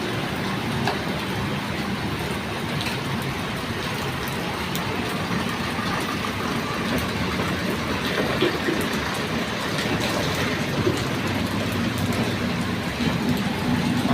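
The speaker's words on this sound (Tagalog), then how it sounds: "Ang tapang ulan." Heavy rain pours down in the Philippines, a dense, continuous hiss and patter on surfaces that stays loud and unbroken throughout.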